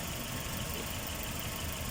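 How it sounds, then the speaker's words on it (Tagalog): A Chevrolet Spark engine idles steadily after a spark plug replacement and throttle body cleaning, with worn engine mounts. It gives a continuous, even low rumble throughout, with no voices. "stable naman yung makina."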